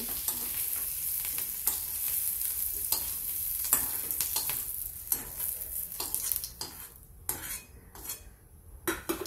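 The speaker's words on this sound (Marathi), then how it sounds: "टोमॅटो फ्राय करून घेऊ, थोडंसं हाफ फ्राय करून घेऊ टोमॅटो" Tomatoes fry in a pan with a soft continuous sizzle broken by repeated scraping and clinking of a metal spatula against the pan, the stirring quickening toward the end, with no speech.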